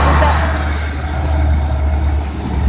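A truck engine rumbles steadily and loudly up close on a Jamaican road, a deep continuous drone with broadband road noise.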